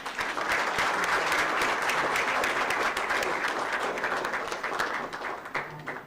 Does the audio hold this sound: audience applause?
yes